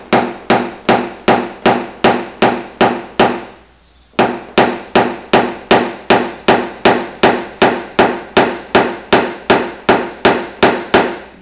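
Rapid, evenly spaced hammer blows on dented car sheet metal worked through a nylon pin, loud and close, with one brief pause before the rhythm resumes.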